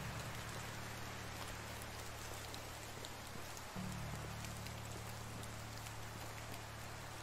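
Rain falls in the medieval survival game Medieval Dynasty as a steady, dense hiss of drops on surfaces, with a low tonal hum underneath that shifts slightly midway.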